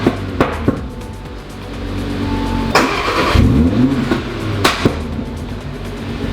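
An Audi RS3 fitted with a large 5-inch air intake starts up outdoors with sharp pops, then revs in loud rising and falling bursts, the camera close to the car and no talking.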